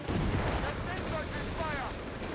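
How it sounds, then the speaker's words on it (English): Grenade launchers fire in a Company of Heroes 3 match, a steady roar of booming, crackling gunfire and explosions filling the whole stretch, with no one talking. "Grenade launchers again going out of here."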